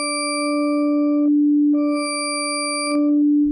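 Layered copies of a sine wave from the Absynth synthesizer, stacked on one another, form a bright, pure sustained tone with harmonic overtones that drop out and return in two or three swells, loud and alone.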